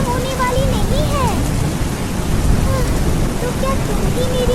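Animated rain falls as a steady, even hiss throughout, with voices talking over it.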